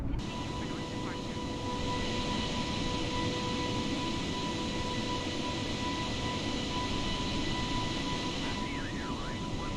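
Airliner taking off in Microsoft Flight Simulator 2020 from Seoul–Incheon International Airport, a steady loud engine roar with broadband rumble throughout and a faint tone above it.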